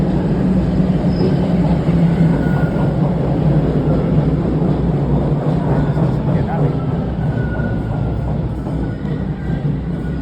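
A subway train pulls into Kipling Station in Toronto with a loud, continuous low rumble and rolling rail noise close by, while people talk in the background.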